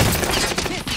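Dense, rapid gunfire from the battle royale game Warzone in Resurgence quads mode, a sustained loud burst of overlapping shots filling the whole second with no talk over it.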